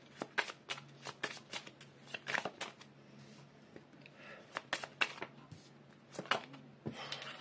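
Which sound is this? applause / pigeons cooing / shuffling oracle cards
shuffling oracle cards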